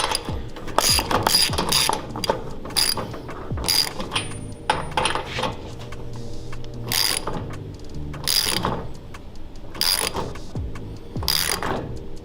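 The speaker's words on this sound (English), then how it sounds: "You're going to use a 15/16 wrench or socket." Ratchet socket wrench tightening a 5/8 lock nut on a go-kart wheel: loud, close bursts of rapid clicking repeated in a rough rhythm, with metallic handling in between and no speech.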